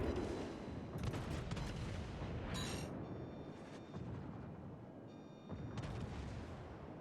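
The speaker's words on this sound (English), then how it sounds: "Oh, fire the guns!" Ship guns firing in a naval battle game, the Riga VII: dense, loud booming salvos and rumbling blasts that continue steadily across the whole stretch, with sharp cracks layered over a heavy low roar.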